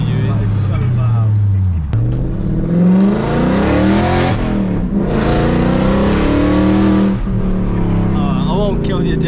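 A straight-piped Audi S4 tuned to around 400 horsepower roars very loud and close, its revs climbing and falling in long sweeps, with a brief drop around the second mark, while people talk over it inside the car.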